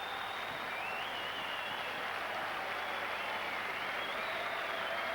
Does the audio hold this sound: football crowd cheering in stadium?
yes